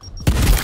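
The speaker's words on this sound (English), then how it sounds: "Throwing frag!" A frag grenade explodes in the Gears Tactics video game: a sudden loud, close blast breaks a quiet moment and rolls on as a dense, rumbling roar.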